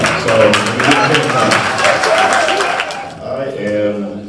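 Banquet audience at a homecoming alumni donor dinner clapping together, a dense steady patter of applause that rises and holds for several seconds before thinning out, with voices mixed into the noise.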